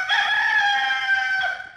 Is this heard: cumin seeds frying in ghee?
no